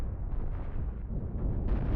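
A cannon round slams into a ship in a Cosmoteer PvP space battle, giving a continuous low, rumbling barrage of booming impacts that stays loud and dense throughout, with a brighter burst near the end.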